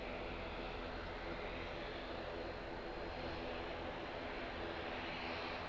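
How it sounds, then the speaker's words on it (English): Airliner on its takeoff roll at Auckland Airport, a steady, broad engine roar held at an even level throughout, heard from a distance with no voices over it. "Really long takeoff roll."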